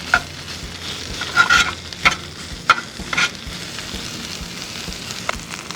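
Diced potatoes for corned beef hash frying in a pan while being stirred, a soft continuous sizzle broken by several sharp scraping and clinking knocks of the utensil against the pan, close and clear with no talk.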